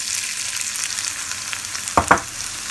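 Onions dropped into melted animal fat set off a steady close crackling sizzle, with two sharp bursts of spatter as they hit the hot fat and stirring clinks underneath.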